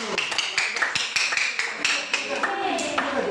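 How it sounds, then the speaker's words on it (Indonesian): Classroom applause for a student group, a dense patter of many hands clapping steadily for a few seconds at moderate volume, with faint voices mixed in. "Oke, tepuk tangan untuk kelompok 1 dulu"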